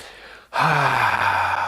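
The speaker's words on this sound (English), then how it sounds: "Give yourself a big inhale through your nose, exhale out your mouth." One deep breath: a quiet inhale through the nose, then a loud, breathy sighing exhale out the mouth, close and alone during a guided relaxation breathing exercise.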